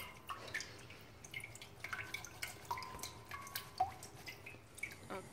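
Quiet, irregular drips of water from drained noodles patter into a bowl, small soft plinks scattered over a faint background.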